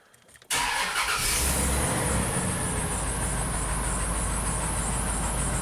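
GM Chevy truck engine cranking and catching, then settling into a loud, steady idle heard close and continuous for several seconds after a brief quiet start.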